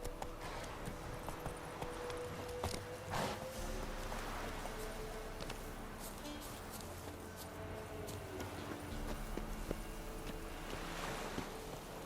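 Roach, a horse in The Witcher 3: Wild Hunt, gallops steadily over a faint wind-like ambience, the hoofbeats soft and rhythmic throughout, with no voices.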